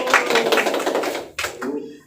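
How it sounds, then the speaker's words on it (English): Brief applause from a small class in a teaching session, a few quick claps and taps, close by, mixed with speaking voices and a short pause midway. "Give applause for Sister Aul"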